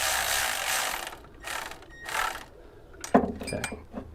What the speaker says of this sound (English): Just barely going to get that bolt snug so that we can tension it.